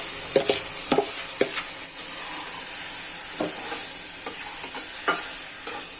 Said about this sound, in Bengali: ডালটা ভালোভাবে কষিয়ে নেব।